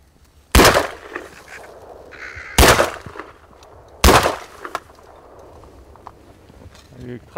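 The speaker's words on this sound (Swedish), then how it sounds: "Det gick 3 skott men det blev 2." Three loud, sharp shotgun blasts ring out during a crow hunt in open Swedish farmland, spaced about one and a half seconds apart, each with a short decaying echo, followed by quieter rustling.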